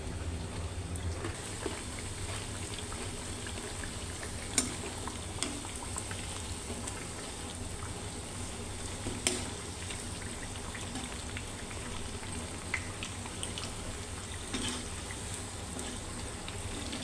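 Methi tikkia frying gently in a pan, a soft steady crackle and bubbling with occasional small pops, quiet and continuous, no voices.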